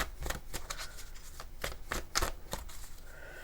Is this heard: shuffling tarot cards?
yes